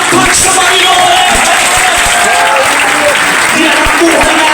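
A church congregation applauds during a worship service, a dense, loud, continuous clatter of many clapping hands filling the room, with scattered cheers and voices mixed in.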